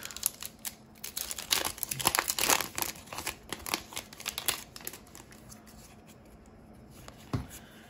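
A Yu-Gi-Oh! Phantom Rage booster pack being torn open and handled, with close crinkling foil and rustling paper throughout, a few sharper crackles along the way and no talking.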